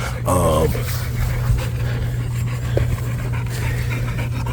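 Durango, a 4-month-old male puppy, pants close up in quick, steady breaths throughout, with a brief whine near the start.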